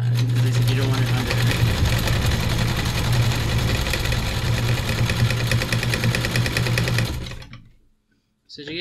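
A sewing machine stitches elastic onto a pleated face mask in a fast, loud, steady whirr up close, stopping abruptly near the end. A voice talks over it.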